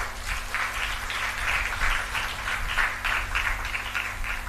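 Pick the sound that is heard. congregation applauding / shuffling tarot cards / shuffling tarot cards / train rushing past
congregation applauding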